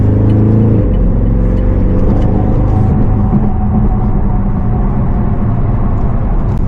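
Loud cars driving on a highway pass under a bridge, making a continuous roaring rumble and whir of traffic that swells and fades slightly, with no talking.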